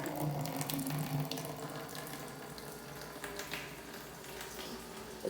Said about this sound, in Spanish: Entonces aquí está esta pilita que sí funciona.